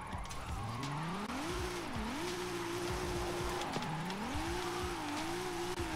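Jeff Gordon NASCAR stock car drifting in the Forza Horizon 5 racing game, on a volcano drift zone: a loud, steady engine note rising and swooping with long tire squeals through the slides, no voices over it.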